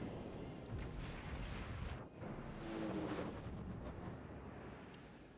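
Battleship main guns firing in World of Warships, heavy booming salvos rolling into a sustained rumble with a second swell of blasts, no talk over them.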